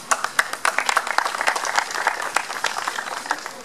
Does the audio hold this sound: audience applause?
yes